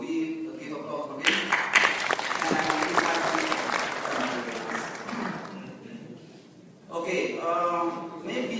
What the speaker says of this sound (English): So we give applause for him.